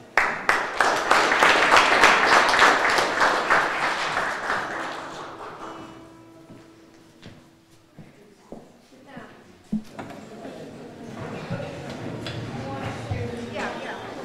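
Applause for a speaker at a Martin Luther King Jr. Day celebration rises loudly at the start, then thins to scattered claps by about six seconds, followed by quiet room noise, taps and some talking.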